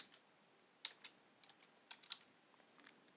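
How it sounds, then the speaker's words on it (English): Fingers type a security code on a computer keyboard in a quiet room, a short run of soft, light keystrokes, a few sharper taps standing out, with no talking. "just type the code in"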